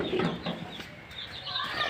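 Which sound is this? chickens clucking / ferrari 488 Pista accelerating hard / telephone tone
chickens clucking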